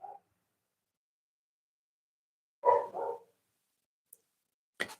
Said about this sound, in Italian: Stanno abbaiando cani in strada,